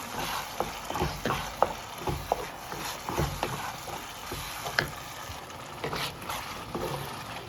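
Stirring a gongura and dried shrimp curry in a pan, soft sizzling under irregular scraping and clinking strokes from a utensil, fairly close and quiet, with no talking.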